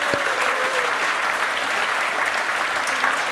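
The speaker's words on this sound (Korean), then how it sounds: "다시 한번 박수로서 맞이해 주시기" A conference audience in Korea gives sustained, even applause, a thick wash of clapping held at steady loudness from start to finish with no speech over it.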